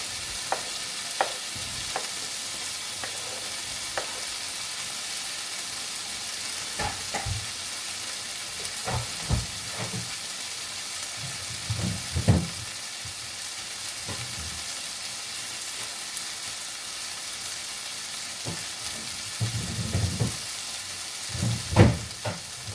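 Kamyas (bilimbi) frying in a pan with spicy squid and prawns, a steady close sizzle with intermittent stirring scrapes and clacks throughout, no voices.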